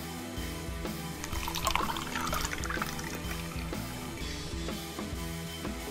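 Beer glugs and fizzes as it is poured into a mug, a close, continuous liquid gurgle with rising foam hiss over six seconds, without speech.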